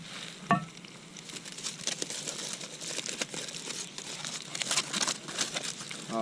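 Steak sizzles on a hickory-fired grill beside potatoes, with a steady close crackle and hiss and a bright pop near the start, no one talking.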